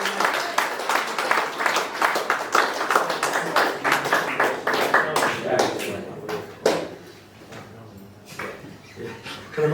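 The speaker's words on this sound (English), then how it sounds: "So a big cheer for him." Applause and claps from a crowd at an end-of-season football club awards presentation, greeting a most improved player; dense clapping fills the first six seconds, then thins to scattered claps with talk mixed in.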